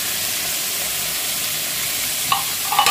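Sardines stirred into a pan with misua noodles and sayote, giving a steady, close sizzle and hiss of frying that runs throughout, with a few scraping stirs near the end.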